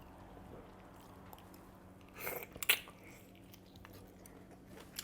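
Close, wet chewing of lobster with a short burst of crunchy bites in the middle, then quieter mouth sounds over a low steady hum.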